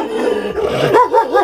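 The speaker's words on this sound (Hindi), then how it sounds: "ये बकरवाली कुत्ता, बकरवाली कुत्ता वे" A young Bakarwal dog in a Kashmir village growls low and rough in one continuous, close rumble with rising swells near the end.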